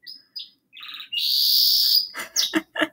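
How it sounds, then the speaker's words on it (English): A pet parrot gives a series of sharp whistles and chirps, close and loud, including one sustained shrill call followed by quick choppy squawks. "I am pet sitting my grandma Burr Sam. You hear him?"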